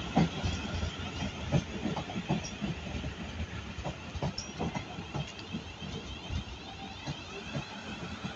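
A British Rail Class 450 electric passenger train rumbles past at Clapham Junction, London, with rhythmic wheel clacks over the rails, a steady hum and faint hiss, close and continuous.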